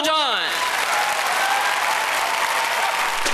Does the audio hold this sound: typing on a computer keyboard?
no